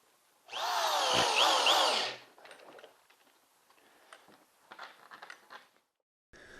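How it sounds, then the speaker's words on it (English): A heavy 110-volt power drill driving screws into cement backer board whirs loudly for about a second and a half, then stops, followed by quieter scraping and handling noises. "I had to change drills to my heavier 110-volt drill"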